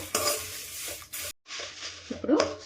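Dry scraping and light sizzling of sesame seeds being stirred as they roast in a pan, in short bursts with a brief silent pause.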